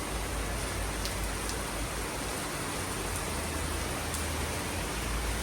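Heavy rain pours steadily and close by, a dense, even hiss with no voices.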